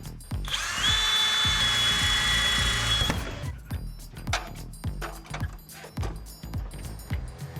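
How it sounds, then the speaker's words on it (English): A power drill bores through the wall of a navy barge houseboat for a condensation drain, a loud sustained whine for about three seconds that cuts off, followed by scattered knocks and clatter. "So we need to drill a hole through the side of the building for the condensation drain."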